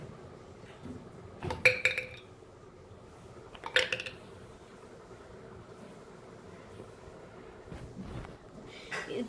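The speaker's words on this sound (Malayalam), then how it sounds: "ആദ്യം നമുക്ക് ഐസ് ഇടാം." Ice cubes are dropped into a glass at home in two separate clinking bursts a couple of seconds apart, bright and close, with a faint third clink near the end over low room noise.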